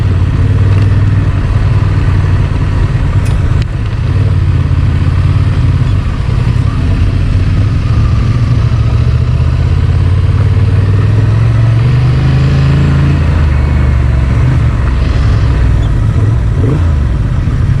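Honda Transalp motorcycle engine on a test ride, a steady low rumble that rises and falls gently as the rider rolls on and off the throttle, with heavy wind buffeting over it and no talk throughout.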